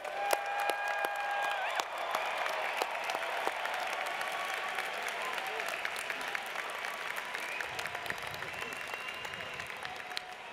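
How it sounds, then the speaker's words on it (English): Sustained applause for engineering graduates at a 2018 Drexel commencement ceremony, a broad, even crowd of clapping heard from a distance in a large hall, holding steady throughout. "let's have one more round of applause for all of our graduates"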